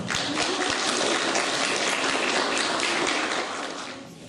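Audience applause fills a school music review hall in Żelistrzewo, a dense, loud, steady wash of clapping that carries on without pause and eases slightly near the end.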